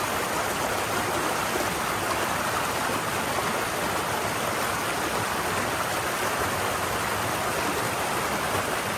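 Water in a stream pours and churns without pause, a loud, continuous hiss-like rush heard up close and alone, steady from start to finish.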